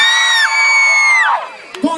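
Adults in a live audience at a children's show scream together on cue: one loud, sustained mass shout that slides down after about a second, then fades into a brief trailing yell.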